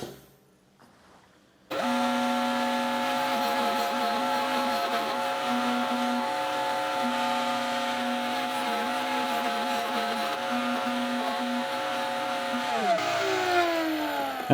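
Router with a tapered bit cutting tenons in wood on a pantry-router jig, starting after a short quiet gap and then holding a steady, loud motor whine for about eleven seconds before spinning down, with no talking.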